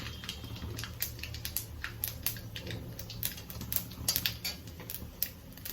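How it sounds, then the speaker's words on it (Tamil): Mustard seeds pop in hot oil close by, small sharp pops and crackles scattering irregularly over a low sizzle. "கடுகு வெடிக்கிறது."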